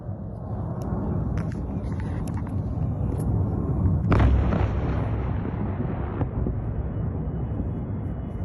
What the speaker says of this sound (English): Video of that explosion that you just witnessed.